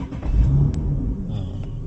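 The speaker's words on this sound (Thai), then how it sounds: "ปุ่มสตาร์ทอยู่ด้านซ้ายตรงนี้นะครับเดี๋ยวเบรกแล้วก็สตาร์ทกัน" A Nissan Fairlady 370Z sports car engine cranks and catches into a deep, low rumble that holds steady and close, with a brief rev near the start.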